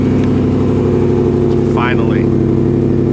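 A Ford Raptor R truck's V8 rumbles loud and close in cold Michigan weather, a deep, steady throbbing idle with a rising rev swell, while someone briefly speaks over it.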